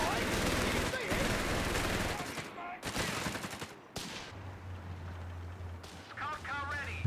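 Anti-tank gun fire in a Company of Heroes 3 battle, heavy booming shots and scattered gunfire bursting through a dense wartime soundscape, with speech running over much of it.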